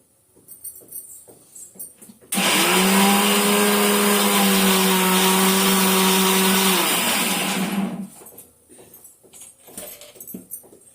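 A mixer grinder whirs ginger, garlic, pepper, cumin and fennel into a paste, its loud, steady motor whine running for about five seconds between quieter kitchen clatter.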